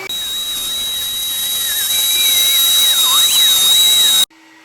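Water-fed core drill boring slowly through a wall in a pool's technical room, giving a steady loud hiss and whine with a high tone that wavers under load, ending abruptly.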